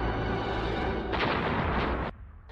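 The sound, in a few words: explosion in film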